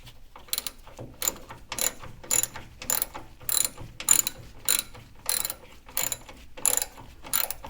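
A ratchet tightens fasteners on C3 Corvette front suspension parts during a steering knuckle, shock and hub install, giving about a dozen quick, close clicking bursts in a steady rhythm with no talk.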